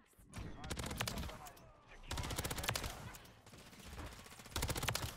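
Rapid automatic gunfire in the shooter Call of Duty MW3 with a Rival 9, loud bursts of several seconds each broken by short pauses, close and sharp, with no talking.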